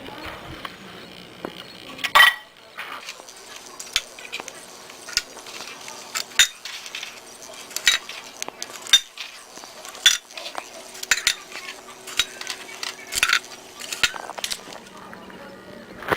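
Paper liners rustle and vanilla wafers tap lightly into the cups of a muffin tin. Soft clinks and small knocks repeat up close and run steadily the whole way through.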